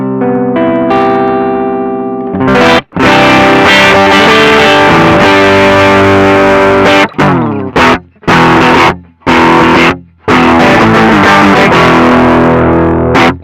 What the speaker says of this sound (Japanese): 歪みエフェクターとして使うようなモードです。